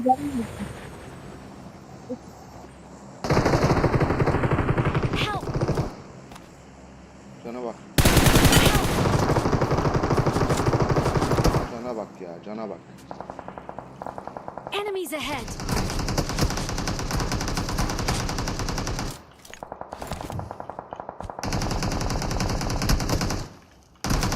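Bursts of automatic gunfire from the mobile battle royale game PUBG Mobile, several long loud volleys separated by quieter stretches, with talk heard in between.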